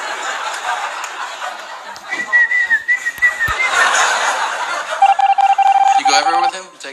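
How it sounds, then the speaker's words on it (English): A person whistles a few clear melodic phrases, bright steady tones near the mic, with laughter and chuckling around them and a burst of rapid tonal notes at the end. "I gotta go somewhere and whistle right now."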